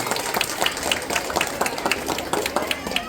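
Guests at a wedding reception party applaud to welcome the bride and groom on stage; scattered, fairly close clapping runs throughout, mixed with crowd chatter and voices.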